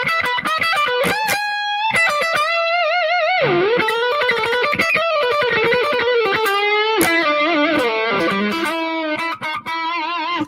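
Heavily distorted electric guitar played loud and up close, a fast run of sustained, bending notes and quick phrases with effects, alone with no talking.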